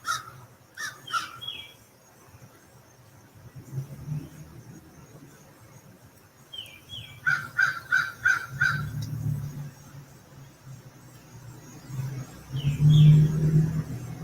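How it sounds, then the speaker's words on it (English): Outdoor morning bird calls, with crows cawing in short repeated bursts and a few brief chirps at moderate distance, over a low rumble of passing traffic. "I'm surprised the birds are still chirping."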